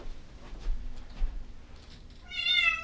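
A cat left inside a rental unit during an eviction gives a short, clear meow toward the end, after a quiet stretch of faint rustling and soft background noise.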